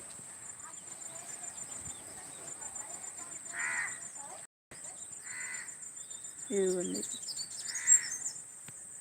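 Crows and other birds call sporadically from trees in a village at dusk, a few caws and chirps at moderate distance over a faint steady hiss, with someone briefly speaking.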